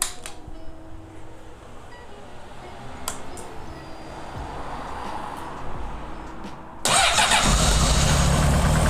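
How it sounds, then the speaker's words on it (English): Honda CBR 600RR sportbike starting up: quiet background with a few clicks, then the engine catches abruptly and settles into a loud, steady idle that fills the rest of the clip. "first step, start your motorcycle."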